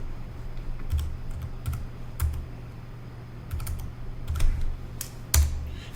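Typing on a computer keyboard while configuring a Cisco ASA firewall: a short burst of close, crisp keystrokes in irregular clusters, with a few louder clacks standing out over a low steady hum, and no voices.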